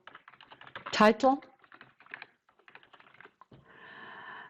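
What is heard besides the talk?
typing on a computer keyboard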